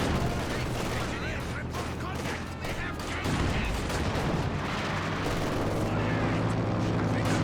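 Artillery base barrage in Company of Heroes 2, a B4 howitzer pounding the enemy base: a continuous rumble of booming explosions and gunfire, dense and loud throughout, with a commentator's voice intermittently over it.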